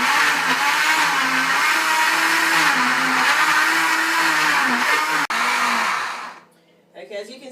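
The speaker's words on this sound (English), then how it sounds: "And we blend it finely." A kitchen blender puréeing tomatoes for jollof rice, a loud steady motor whir with slight pitch wobbles that runs for several seconds, then cuts off abruptly, leaving a brief quiet tail.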